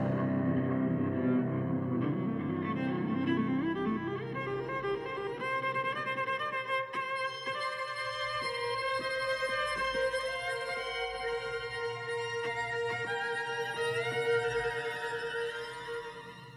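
Sustained bowed hypercello tones layered with shimmering electronic processing, rich low harmonics and bright high partials, playing continuously without pause.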